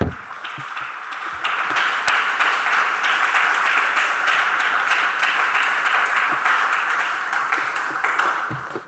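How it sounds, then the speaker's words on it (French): A church congregation applauds the Lord during a sermon in a sustained, dense wave of clapping from a large group, steady and even throughout, close and loud. "Applaudissez le Seigneur."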